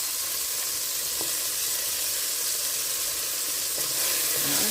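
Beef stew ingredients frying in plenty of oil in a pot, a constant loud sizzle with occasional faint stirring knocks, close and steady, no voices.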